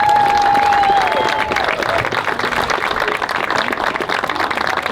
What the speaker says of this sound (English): Let's clap it up for Angie's Playground.